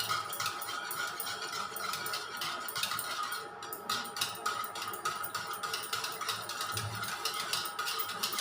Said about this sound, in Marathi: असं ताक बनवतो ना तसं बनवायचं ताकावाने याला.